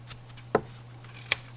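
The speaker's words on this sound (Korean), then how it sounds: "가위로 또 깨끗하게 잘라주시고요" Scissors snip through crochet yarn while finishing a pom-pom bucket bag: two crisp, close cuts about three-quarters of a second apart against a quiet background hum.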